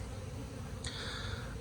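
Honey bees buzz around spring hives in a rainy-season apiary, a steady close hum lying over low rumbling background noise, with one brief higher whine passing near the microphone partway through.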